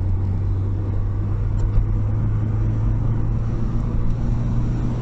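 A front-wheel-drive 1990s Audi A6 C4 sedan driven at full throttle, heard from inside as a loud, steady engine drone and road rumble without letup.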